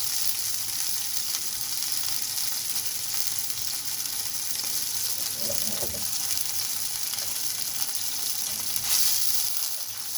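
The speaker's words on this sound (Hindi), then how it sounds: "उसी तेल में प्याज को मैं लाल करूँगा जिस तेल में मैंने मछली को पकाया" Onions frying in the oil left over from cooking pomfret fish, a steady soft sizzle that continues throughout with a faint clink partway through.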